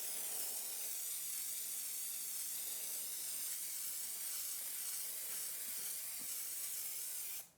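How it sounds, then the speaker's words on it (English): An aerosol can sprays in one long, steady hiss, close and unbroken for several seconds before cutting off abruptly at the end. "Because I'm spray painting"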